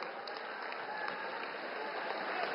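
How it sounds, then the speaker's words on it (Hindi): Crowd applauding at a political rally in East Champaran, Bihar, where the Prime Minister is being welcomed: dense, steady clapping from a large audience, continuous and even throughout. "एक बार जोरदार तालियां बजनी चाहिए"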